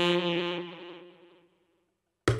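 Saxophone played through a Source Audio Nemesis delay pedal with tape wow, flutter and noise turned up, a single warbling held note decaying over about a second and a half, then silence before an abrupt loud burst at the end.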